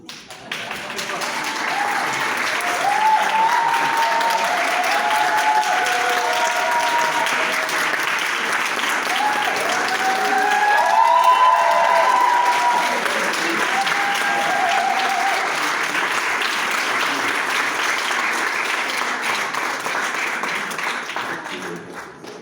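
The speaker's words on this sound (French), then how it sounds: "on applaudit." Wedding guests applaud the arriving bride and groom in long, sustained clapping from a crowd, loud and close, with a few voices calling out over it.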